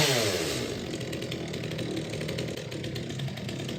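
A chainsaw cuts through a tree limb high up in a tree, running loud and steady at high revs without pause.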